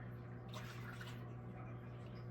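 Apple cider vinegar is poured into an Instant Pot, producing a steady, soft liquid splash and trickle that lasts the whole moment, with a low background hum.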